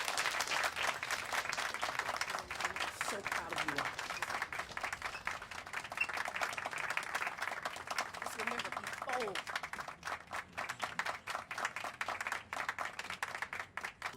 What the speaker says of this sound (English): the clapping goes on way too long.